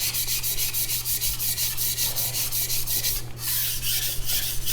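A CCK Chinese cleaver is sharpened on a whetstone, with rapid regular scraping strokes rubbing back and forth in a steady rhythm over a low hum, close and moderately loud.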